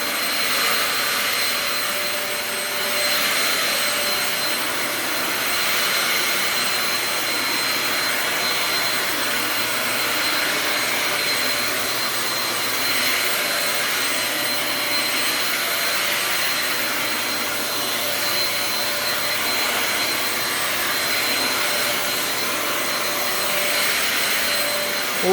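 A vacuum cleaner runs continuously with its brush roll spinning, a loud, steady, unbroken roar and hiss that holds at an even level for about twenty-five seconds, with no voices.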